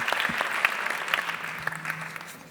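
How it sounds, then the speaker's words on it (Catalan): A theatre audience at the Teatre Principal de Terrassa claps for volunteers during a play presentation, a steady, moderately loud burst of applause that tapers off slightly toward the end. "Un aplaudiment pels voluntaris"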